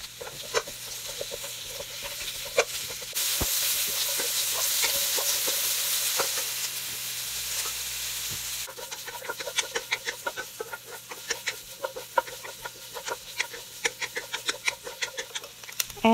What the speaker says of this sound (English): Put canola oil in the pan. Add onions, stir fry.